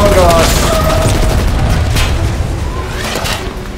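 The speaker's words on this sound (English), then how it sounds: "Oh, they just shot a missile at us." A missile explosion in the Call of Duty Black Ops Cold War campaign: a loud, sustained boom with rumbling low end and gunfire-like crackle, with a voice talking over it.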